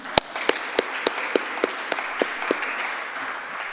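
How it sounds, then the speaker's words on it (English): Conference audience claps for panelists and moderators, a moderate round of applause with distinct, evenly spaced loud claps close by over softer clapping from the room. "A big applause for the panelists and the moderators one more time before we leave."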